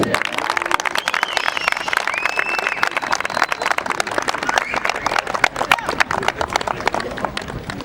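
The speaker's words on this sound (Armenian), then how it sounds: "Հանրակացարանին բարձր ծափերով" Loud, sustained applause from a crowd greeting a football team at a Nor Hachn 66th-anniversary final, dense clapping that runs without a break throughout.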